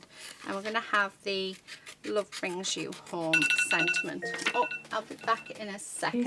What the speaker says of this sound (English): That was my alarm going off to tell me I had to take some